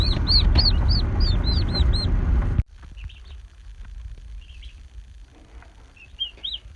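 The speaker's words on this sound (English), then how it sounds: "So these are the turkeys, the baby Narragansetts." Baby Narragansett turkey poults give high, repeated peeping calls, loud and close over a rumbling background at first, then fainter scattered chirps in a quieter space.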